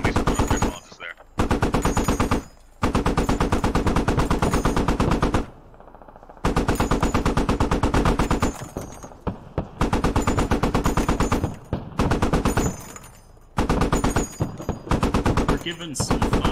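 Gunfire in the military shooter game Squad, long loud bursts of rapid automatic fire close by, broken by short silences and quieter stretches, with voices talking over the fire.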